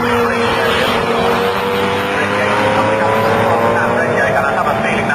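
Jaguar XJS and saloon race cars roar past during a night race at Donington, a loud, sustained engine drone with shifting pitch under continuous commentator talk.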